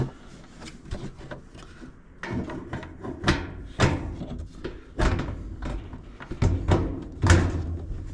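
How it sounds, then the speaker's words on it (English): A door is handled while being hung back on its hinges, with a series of close, sharp knocks, thuds and scraping clunks at an irregular rhythm over low background noise. "just hang this door just like we hung the last door here"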